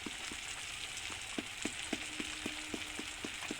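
Tomatoes with turmeric and spices sizzle and fry steadily in a pan for a spicy fish curry, with a continuous close crackle broken by regular soft taps of a spatula stirring the mixture.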